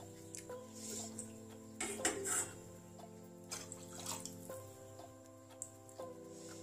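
Several glasses of water are poured into a pot to make bajra papad dough, giving soft splashing and dripping with a few sharp clinks over a steady tonal background.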